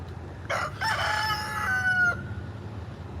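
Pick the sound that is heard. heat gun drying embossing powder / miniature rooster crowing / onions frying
miniature rooster crowing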